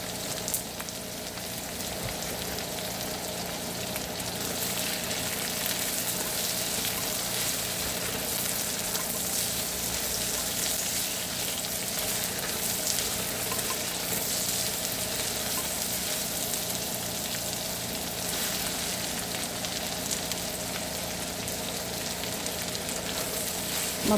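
Beef bistek sizzles steadily in a frying pan, a constant crackling hiss at moderate volume with no talk over it.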